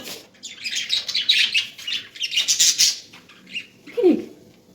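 Small birds in a garden chirp and tweet in quick bursts, fairly close, with a lower squawk near the end and no talking.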